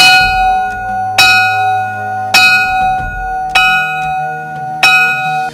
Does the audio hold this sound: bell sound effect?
yes